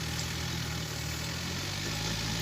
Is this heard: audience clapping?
no